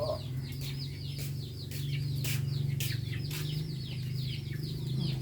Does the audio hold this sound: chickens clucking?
yes